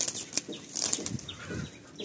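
Pigeons of the kalanka breed burst from a loft on release, with a quick run of wing flaps and clattering takeoffs close by and mild outdoor background noise.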